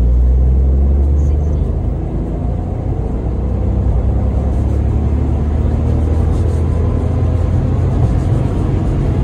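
A car on a straight road pulls away at full throttle in third gear from about 50 km/h, with its 15- or 17-inch wheels under test. A loud, steady, close engine and road rumble fills the cabin throughout, with no talk.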